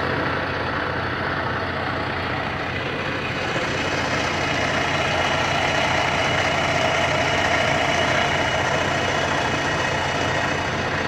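Truck with air-ride suspension idling: a loud, continuous low engine rumble with steady vibration holds unchanged throughout, with no break or rev.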